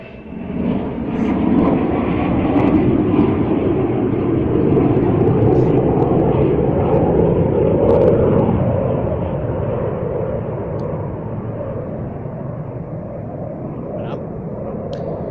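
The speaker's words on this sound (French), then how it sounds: "Un avion." An airplane drones overhead, its broad rumbling roar swelling to a peak midway and then slowly fading as it passes.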